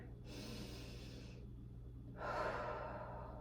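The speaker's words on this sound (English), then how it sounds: "So this is called belly breathing or diaphragmatic breathing." Slow, deep diaphragmatic belly breathing during a shoulder and chest stretch: one long airy inhale, a pause, then a louder, fuller exhale, close to the microphone in a quiet room.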